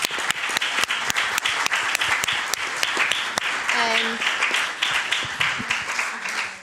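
An audience at a conference session bursts into dense applause after the presentations, sustained and fairly loud across the whole stretch, with a brief spoken word and faint voices mixed in.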